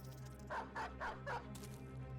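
Dogs barking in the video game Battle Brothers, four quick yapping barks in a row followed by a fainter yelp, over a steady low background hum.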